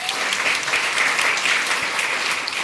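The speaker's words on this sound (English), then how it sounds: "That deserves a round of applause" A school board meeting audience breaks into steady applause for scholarship-winning students, a full room of clapping held at an even level throughout.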